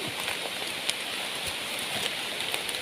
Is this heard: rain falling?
yes